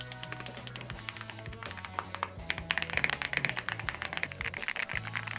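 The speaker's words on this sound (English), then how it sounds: "there have been so many switches out in the market that have a long pole, resulting in clacky sounding switches" Typing on a keyboard fitted with clacky long-pole mechanical switches, a steady rapid patter of sharp key clacks at close range with no talking.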